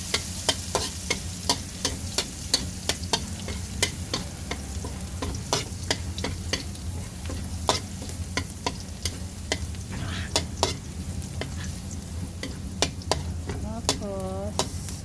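Garlic frying in a pan, a steady close sizzle broken by frequent sharp clicks and taps of stirring, with a brief squeak near the end and no talk.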